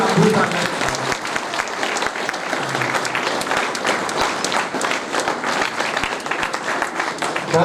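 An audience at an International Yoga Day event gives loud, steady applause, dense clapping sustained for several seconds with some voices underneath.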